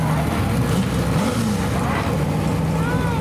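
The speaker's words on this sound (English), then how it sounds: "We've got a couple of the Ford's GT40s departing the show." A couple of Ford GT40 cars with V8 engines, including recreations, pull away from an outdoor car show, a loud continuous engine roar with rising revs close by.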